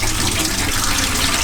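A tap runs steadily in a family guest room's sink, a continuous broadband rush of water pouring without pause, close and fairly loud, with no voices over it.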